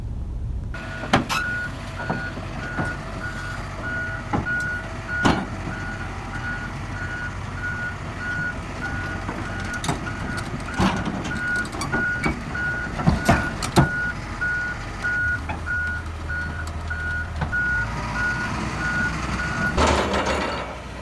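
A truck delivering a new excavator to a field sounds its reversing alarm: evenly spaced beeps repeat steadily for about twenty seconds over a low engine rumble and scattered clunks, with no talk.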